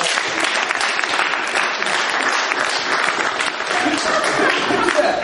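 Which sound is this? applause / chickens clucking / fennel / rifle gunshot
applause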